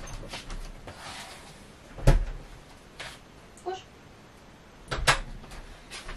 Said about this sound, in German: ich mache die Tür auf.